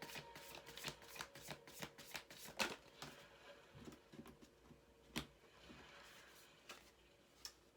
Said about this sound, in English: Okay, so I'm just going to pull some cards, a couple cards.